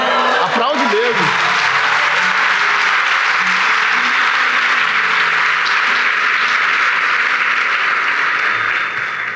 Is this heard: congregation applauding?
yes